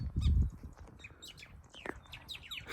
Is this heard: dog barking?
no